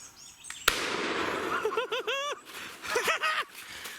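A single sharp shotgun blast fired at a wild turkey during a Tennessee turkey hunt, one loud crack followed by excited voices and a gobbler's calls outdoors.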